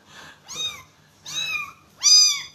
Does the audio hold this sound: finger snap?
no